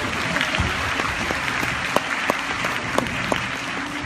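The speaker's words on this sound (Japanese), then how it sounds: "墓場のオールスターズに盛大な拍手。" Sustained audience applause at a Universal Studios Japan live show, a dense steady patter of many hands clapping, fairly loud, with a few sharper individual claps and no talk over it.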